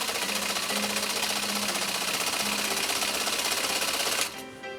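A Husqvarna Viking Type 51E sewing machine runs at a steady fast stitching rhythm, loud and close, for about four seconds before stopping abruptly and leaving a faint hum.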